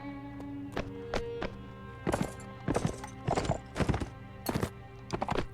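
Horse hooves clip-clopping in the Mount & Blade: Warband video game, a steady run of sharp clops, some doubled, over a constant low game hum, with a brief whinny-like note and no talk.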